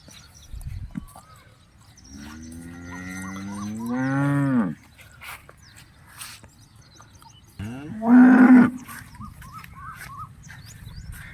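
Two long, loud cow moos from dairy cattle on a farm, the first swelling for about three seconds and the second shorter and sharper after a pause, with quiet background noise between.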